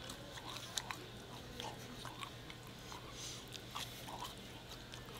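Several short crisp crunches from close up as a wavy-cut fry is bitten, scattered bites and chewing over a low steady hum.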